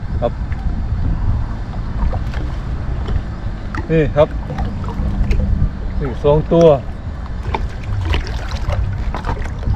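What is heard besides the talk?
wind blowing outdoors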